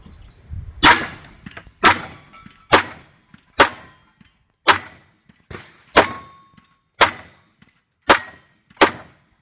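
Pistol shots from a CZ 75 SP-01 ringing steel gongs at a range: ten loud, evenly paced reports, each followed by a short metallic ring that fades before the next, with no talk.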